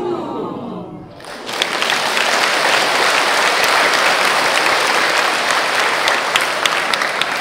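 An audience bursts into loud, sustained applause after a brief spoken moment, a dense wall of clapping from a large crowd in a hall that stays steady to the end.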